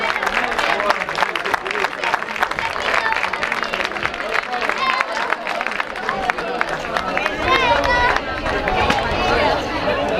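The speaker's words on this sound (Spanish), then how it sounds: "Un aplauso para eles, por favor." A crowd at a youth men's rowing regatta prize ceremony in O Grove claps outdoors amid chatter and babble, the applause mixing with nearby voices and general bustle throughout.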